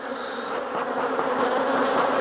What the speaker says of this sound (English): So now we just need to get the bees off the top frame so we can manipulate these frames back.